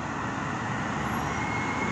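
Steady broadband roadway noise from several vehicles on a busy street while cycling, a continuous dense wash of engines and tyres with no clear single pass-by.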